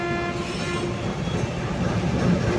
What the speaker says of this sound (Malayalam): ഒരു ട്രെയിൻ വരുന്നുണ്ട് ഏതോ ഒരു ട്രെയിൻ ലൈറ്റൊക്കെ ഇട്ട് ആരടേ ഡീസൽ ലോക്കോ ആണല്ലോ